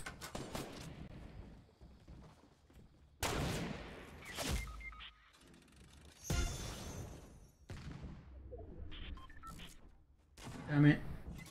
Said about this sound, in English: No weapons, and I'm being shot at already